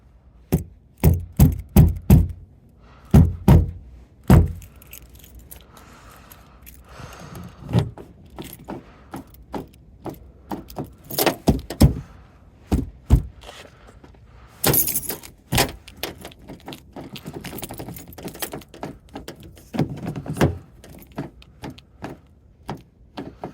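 Keys jangle and scrape in the frozen door locks of a Chevrolet HHR in winter, coming as repeated sharp metallic bursts and clicks with quiet gaps between them, up close.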